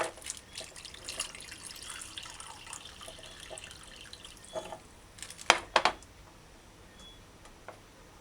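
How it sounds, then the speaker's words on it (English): Water splashes and drips into a bowl of fish fillets, faint at first and then a few louder pours near the middle before settling again. "throw that water off and throw fresh water on it"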